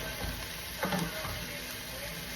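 Food sizzling as it fries in a pan, a constant soft hiss with a brief clink of a utensil partway through, faint and steady with no talk.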